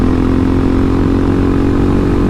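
A Suzuki DRZ motorcycle engine runs hard in second gear on soaked roads, a loud, steady close-up drone without breaks or voices.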